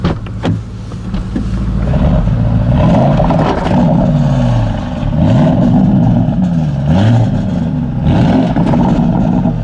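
A loud, close TechArt Porsche Panamera Grand GT engine gives a deep, rumbling grumble whose pitch rises and dips as it revs, with a few sharp pops.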